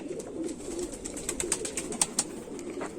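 A crested Kamagar pigeon with a small tuft and purple neck gives a low, continuous cooing murmur, close and moderately quiet, with faint light ticks over it and no voices.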